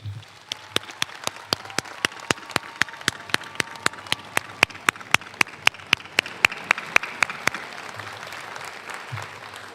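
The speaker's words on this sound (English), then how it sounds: "Can everyone please give our graduates a round of applause?" Graduates at an in-person high school graduation get a round of clapping that sounds thin and evenly paced, sharp individual claps repeating steadily for about seven seconds over a faint room hush before fading.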